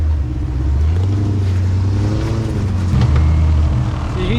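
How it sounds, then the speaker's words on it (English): A V8 engine in a Jeep XJ running 40-inch tires grinds over slippery logs and rocks on an off-road rally trail. It makes a loud, steady, low rumble with small shifts in pitch and no talk over it. "having a V8 under the hood makes a big difference out here"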